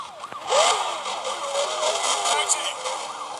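Wavering police car siren tones in a video game sweep up and down over a rumbling engine, fairly loud and continuous throughout the short stretch.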